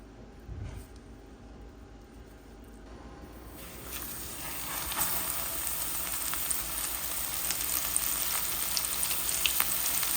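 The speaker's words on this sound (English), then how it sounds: "slightly coat it with some flour, not much. The flour is just to hold it. And I'm gonna drop it in the oil." Flour-coated fish dropped into hot oil sets off a bright, crackling sizzle that builds and stays loud and steady for several seconds, close up in a home kitchen.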